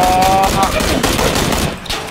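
Rapid automatic gunfire in PlayerUnknown's Battlegrounds, loud and dense near bursts filling the whole stretch with hardly a gap, some tonal ringing early on and faint voice traces underneath.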